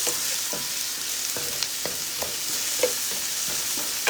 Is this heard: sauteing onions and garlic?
yes